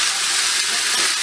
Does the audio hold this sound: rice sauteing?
yes